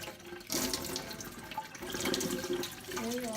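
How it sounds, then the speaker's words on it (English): Filtered water runs over the exposed roots of an orchid, a steady close splashing rinse that eases briefly near the start and then continues, with no talking. "I'm gonna use the filtered water just to rinse my root system."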